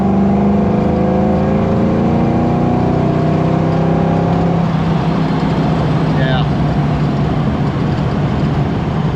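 A Fox body car engine with a Vortech supercharger, GT40 heads and cam revs loudly on a dyno, its tone climbing steadily as speed rises, sustained and close, with a person speaking over it.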